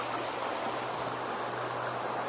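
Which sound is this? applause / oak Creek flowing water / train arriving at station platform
oak Creek flowing water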